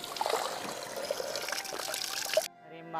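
Water trickles and splashes steadily from a village spring in a mountain village in Tehri Garhwal, Uttarakhand, close and continuous before cutting off to faint music.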